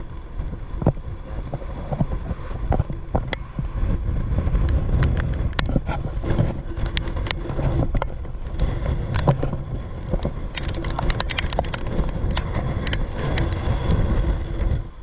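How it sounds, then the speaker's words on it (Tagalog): Strong typhoon wind roars continuously at a seashore where boats are moored, a dense, steady rush with buffeting gusts across the whole stretch and no talk. "Lakas ng hangin."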